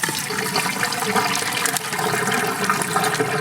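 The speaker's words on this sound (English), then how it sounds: "add enough water to cover the Bambara beans so that all the floating material gets down here" Water poured over Bambara beans to cover them for washing, a steady loud rushing and splashing that fills the whole stretch without pause.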